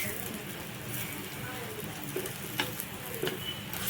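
Chopped tomato sizzles as it is stirred in a hot pan for a Kerala puli curry, a soft continuous frying hiss with faint scraping stir strokes, fairly quiet and with no talking.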